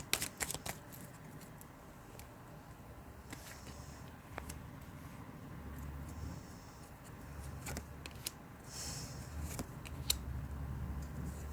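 Tarot cards being shuffled by hand during a love reading, giving soft repeated riffling and flicking bursts with a few sharper snaps, fairly quiet and close, with no talking.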